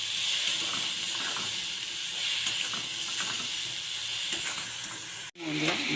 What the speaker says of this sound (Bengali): এবারে ফুলকপি আলুর মধ্যে দিয়ে দিলাম মশলাটাকে, দিয়ে সামান্য একটু কষিয়ে নেবো